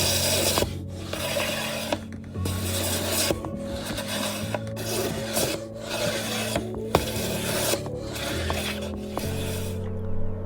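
Hand filing a 9.5-inch radius onto an 8 mm thick wooden fretboard: rhythmic, close rasping strokes repeat roughly once a second, each a rough scraping pass across the wood.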